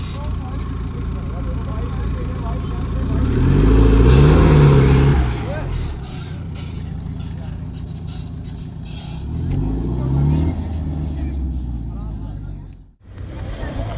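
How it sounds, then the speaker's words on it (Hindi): An off-road vehicle engine fitted with a changed exhaust rumbles loud and close, swelling twice in deep revving surges before dropping away, with people talking over it. "हमारी गाड़ी की आवाज़ देख रहे हो आप, एग्जॉस्ट चेंज होने के बाद आवाज़ ही चेंज होगी पूरी"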